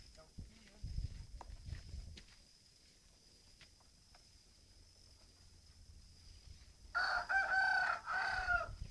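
After quiet rustling and scattered soft thumps, a rooster crows loudly and close by, its call stretching for a couple of seconds.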